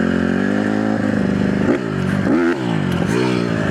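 A dirt bike engine, one that runs poorly, revs on a dirt track, a loud close buzzing drone that climbs and dips through several throttle blips, with some clatter and no talk.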